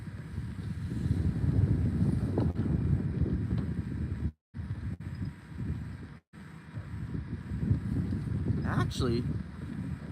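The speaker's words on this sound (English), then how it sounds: "the wind's changed. It was blowing upriver, now it's blowing downriver now." Steady wind blowing over a boat on the Ohio River during a catfishing outing, a continuous low rushing buffet against the microphone with brief dropouts, someone speaking briefly over it.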